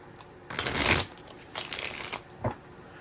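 Tarot cards are shuffled in a few quick riffling bursts, with short pauses between them, close and fairly quiet.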